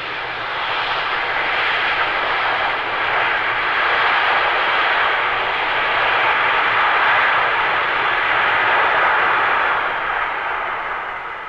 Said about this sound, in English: This is a Boeing 747 jumbo jet.